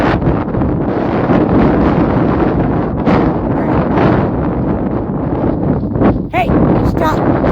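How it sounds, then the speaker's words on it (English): Strong gusty wind buffets the microphone outdoors in light snow with a steady roar, and faint voices come through briefly near the end. "it's getting a little windy out here."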